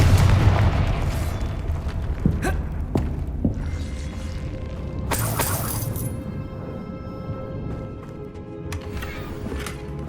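A Confringo fire spell from the Hogwarts Legacy video game bursts with a loud boom at the start, followed by sharp blasts and a bright crackling flare midway over a steady low game rumble.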